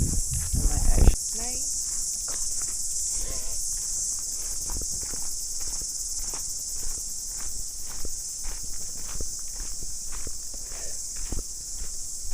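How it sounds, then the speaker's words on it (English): A loud, constant high-pitched drone of screaming cicadas fills a nature trail in Long Bay, New Zealand, with footsteps crunching along underneath throughout. "Nature trail basically consists of screaming cicadas."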